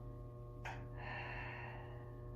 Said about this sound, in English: This is how we inhale.